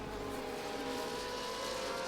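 Race car engines at Spa in a racing video game, a dense continuous drone of several cars on track, steady and fairly loud throughout with no clear individual pass-bys.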